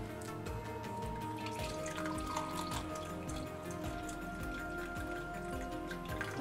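Liquid pours from a vintage Anchor Hocking microwave vacuum coffee maker, a soft continuous trickle with faint dripping, quiet and close, no voices.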